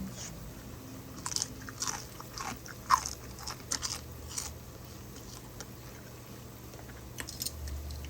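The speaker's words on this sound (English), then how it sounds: "so here is the bacon. I'll crunch on it." Quiet, crisp crunching bites of crunchy mushroom bacon repeat irregularly against a soft background hum, close to the listener.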